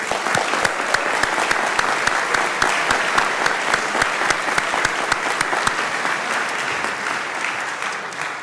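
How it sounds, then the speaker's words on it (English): Audience applause for an admissions and enrollment team at a college class ringing-in ceremony: loud, sustained clapping from a large crowd, with distinct nearby hand claps popping out of the dense wash before it eases slightly toward the end. "Give them a round of applause for the work they did today."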